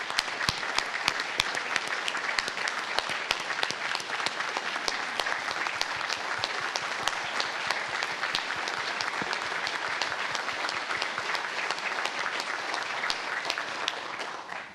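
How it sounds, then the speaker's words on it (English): Sustained applause from a public hearing audience honoring a 90-year-old World War II veteran, dense steady clapping for the full length with no talk over it. "I think we owe him a round of applause for that"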